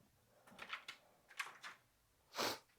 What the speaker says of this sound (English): I got to open my door for my dog.